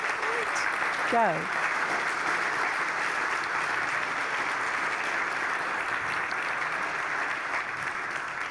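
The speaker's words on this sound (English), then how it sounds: "Can we give like the biggest round of applause in the world for that?" Conference audience at the South Coast Summit 2021 keynote applauding the organizers, sustained and dense clapping across a large room, with a brief voice and a whistle-like cheer near the start.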